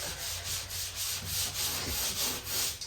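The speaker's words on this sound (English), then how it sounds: "I'm just gonna lightly wet sand this and then add my second coat." Drywall joint compound being lightly wet-sanded by hand, a continuous close rubbing scrape that swells in steady back-and-forth strokes, with no voices.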